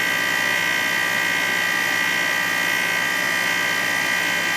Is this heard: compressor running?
yes